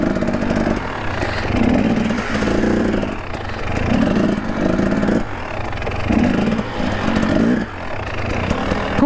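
A Husqvarna TX300 trail motorcycle engine runs steadily during a ride, its throttle rising and falling in rhythmic surges over a continuous mechanical drone with some clatter, close and fairly loud throughout.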